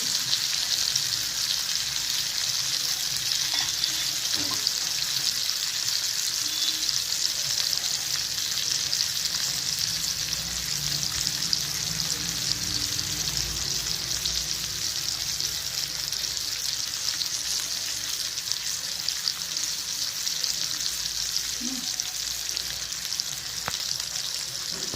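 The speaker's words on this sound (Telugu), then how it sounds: "ఇప్పుడు స్లోగా ఫ్రై అవుతే మనకి లోపలంతా బాగా ఉడికి బాగుంటుంది." Fish sizzles slowly in a pan over a low flame, a steady, even crackle of frying that carries on unbroken for the whole stretch, close by and fairly loud, with no talking over it.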